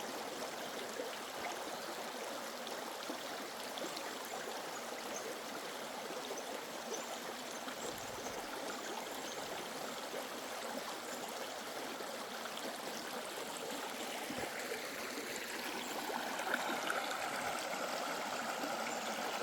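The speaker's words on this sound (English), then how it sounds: "all I'm hearing is the water and the birds" A stream flowing through the Maine woods at a gold-prospecting spot, a continuous soft rush and gurgle of water, steady and moderately close, with no voices.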